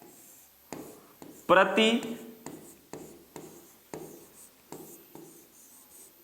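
Marker or chalk strokes scratch out units on a board during a physics lesson on electric current and resistance, in short rhythmic bursts spaced about a second apart. A teacher's voice talks over the writing.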